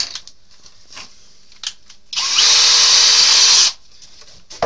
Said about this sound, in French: Je viens bien percer.